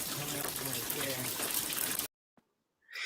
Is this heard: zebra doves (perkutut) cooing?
no